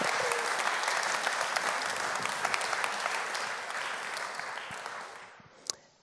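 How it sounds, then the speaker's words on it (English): A church congregation at an evening gathering at St. Stephen's claps as a speaker comes up to the stage, a full, even wash of applause that slowly thins and fades near the end. "would you give Hannah a massive clap as she comes up to the stage"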